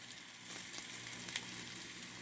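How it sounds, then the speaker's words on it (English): Peanut butter and jelly stuffed French toast sizzling in a pan, a close, even crackle with small pops over a couple of seconds, nobody speaking. "And you hear it sizzling."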